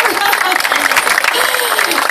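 A crowd at a festival queen pageant applauds steadily, a dense wash of clapping throughout.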